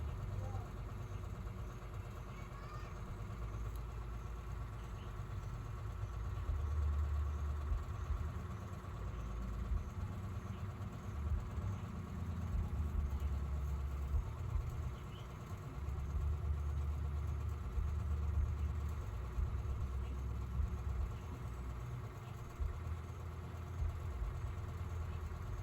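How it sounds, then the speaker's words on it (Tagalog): A motorcycle engine idles steadily nearby, a low, continuous mechanical rumble that holds for about twenty-five seconds without revving. "Motor ni Dani anak oh."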